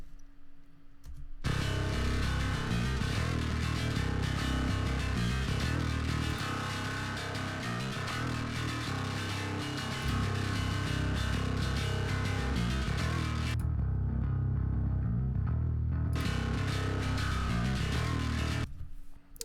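Two bass tracks in a rock mix play together as a loud, dense, sustained low-heavy tone with a gritty, rhythmic attack, cutting out briefly near the start and again toward the end.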